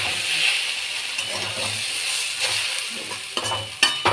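Chow mein noodles stir-fried in a pan with tomato sauce and soy sauce, a steady close hiss and sizzle with spatula scrapes and clatter that build toward the end.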